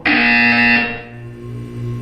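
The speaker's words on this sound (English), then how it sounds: "When you hear the buzzer, look up at the ceiling" A loud electronic buzzer from the video game Portal 2 blares for under a second, then gives way to a lower, quieter humming tone that swells and fades.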